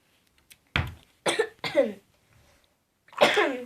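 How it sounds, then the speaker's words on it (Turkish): A person with a cold coughs several times in short, close bursts, with a brief pause before a final harsher cough, recorded indoors while cleaning a toy kitchen. "O yüzden birazcık öksürebilirim videoda"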